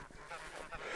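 Guard geese honking, a couple of brief honks close by in a one-second burst, faint.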